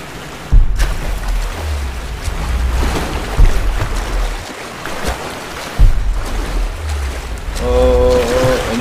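A waterfall in the Tomb Raider video game rushes as loud, steady broadband water noise, broken by a few heavy thuds, with brief tonal game music rising near the end.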